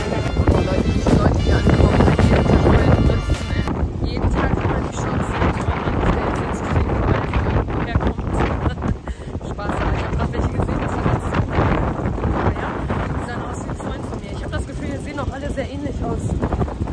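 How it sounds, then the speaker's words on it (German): Stormy wind buffets the microphone on a ferry pier in Thailand, a loud, rough rumble that gusts throughout and is strongest in the first few seconds. "So, Leute, stürmisch heute wieder."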